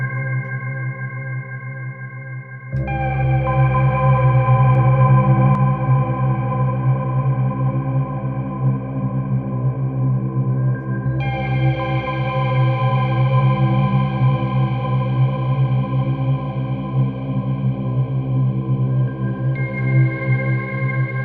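A sustained synth pad from the Empyreal AD by Sample Logic preset, steady layered tones with effects off and no audible echo or modulation, changing chords partway through, playing alone with no voices.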